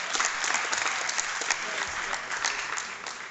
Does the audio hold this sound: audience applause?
yes